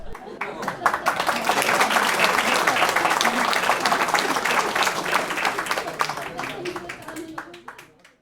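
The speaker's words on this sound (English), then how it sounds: "Please join me once again in a round of applause to thank Lan Jun for her service to the ASNM." A conference audience gives a full round of applause to honor an outgoing society officer, dense clapping that swells, holds steady, and fades out at the end.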